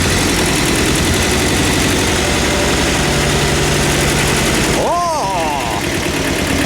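A Kubota tractor's diesel engine idles loudly and close after repair, with a steady, knocking low rumble throughout and a brief rising whine near the end.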